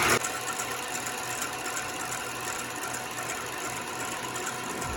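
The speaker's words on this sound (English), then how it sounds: "I'm going to beat the egg whites until they're very, very stiff" An electric mixer beats egg whites until stiff, giving a steady mechanical whir with a faint rattle that holds even and unbroken after a brief louder start.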